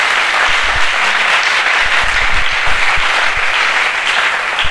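A church congregation breaks into loud, sustained applause for the Lord, a dense wall of clapping hands that stays steady from start to finish with no speech over it.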